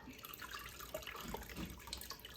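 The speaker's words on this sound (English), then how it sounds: "Let the water drain." Water drains from a papermaking mould screen just lifted out of paper pulp slurry, making a quiet, steady trickle and patter of drips with no voices.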